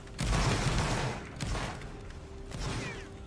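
Musket volley in the Roblox Waterloo battle game: a ragged burst of several shots fired nearly together, followed by two more scattered booming reports, moderately loud against a quiet background, no talk.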